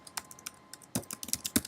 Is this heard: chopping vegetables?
no